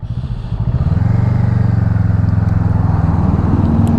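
A Honda Rebel 500 motorcycle engine idles close by while stopped, with a steady, slightly lumpy rumble that holds constant for several seconds.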